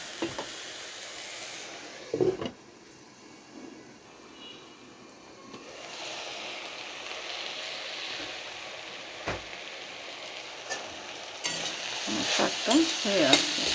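Leafy greens cook in a covered pan with a soft, steady sizzle and hiss, interrupted by a few sharp clanks and scraping stirs near the start and end.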